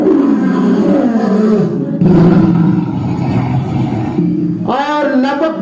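A voice imitating a lion's roar during a Hindi religious discourse, a loud, sustained growling roar that rises at the end into a strained, harmonic bellow.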